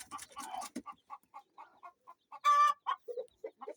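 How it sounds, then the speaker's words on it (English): A brooding hen on a Kienyeji chicken farm in Kenya gives a string of soft, regularly spaced clucks, quiet and close, with one louder squawk midway and no other voices. "still another hen that is brooding"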